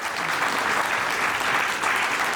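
Audience at a Hindi poetry recital breaks into a short, dense burst of clapping, loud and sustained throughout.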